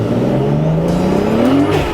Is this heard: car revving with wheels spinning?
yes